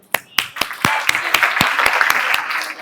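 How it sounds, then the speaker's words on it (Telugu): A single person at a civic awareness workshop claps about a dozen times at a steady pace, with a murmur of room noise and voices underneath. "దీనికి నేను క్లాప్స్ కొడతాను"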